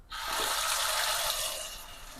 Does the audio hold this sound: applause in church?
no